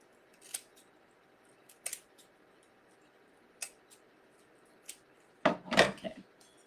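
Scissors snipping a few times, first as sparse single clicks and then as a louder cluster of quick close cuts near the end, with no voice.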